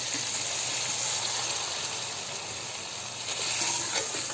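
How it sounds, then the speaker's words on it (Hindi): Water poured into a pan of frying keema and peas makes a loud, steady sizzle and hiss of steam that stays up close and continuous throughout, with a brief surge near the end. "अब इसमें पानी लगाएंगे ताकि हमारे मटर गल जाए।"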